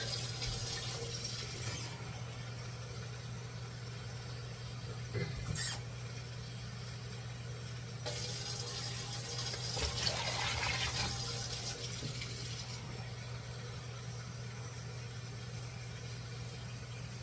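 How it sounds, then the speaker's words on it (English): Warm water being poured into a foot soak basin, a steady, faint stream of running liquid lasting throughout over a constant low hum, with no voices. "So I'm going to do 6 cups of warm water."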